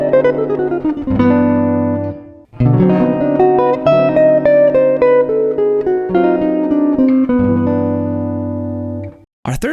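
A jazz guitar plays a fast single-note line built on a distinctive picking style, with clean, distinct notes in phrases separated by short pauses and no talking over it.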